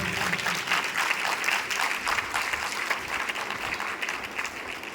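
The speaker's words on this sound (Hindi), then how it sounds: "आप उसके लिए एक जोरदार ताली दे सकते हैं।" A church congregation breaks into steady, dense applause that holds at an even level throughout, with no voices standing out above the clapping.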